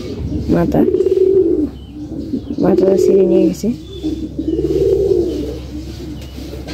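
Pigeons and doves coo in a renovated pigeon house, three long, low, rolling coos repeating close by with short gaps, while someone speaks over and between them.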